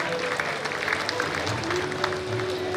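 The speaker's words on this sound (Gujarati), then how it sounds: "જોરદાર તાળીઓથી એમને વધાવીએ" Audience applause at a Saraswati felicitation ceremony of a Kharva community foundation, steady dense clapping throughout with some crowd murmur and faint tonal hum underneath.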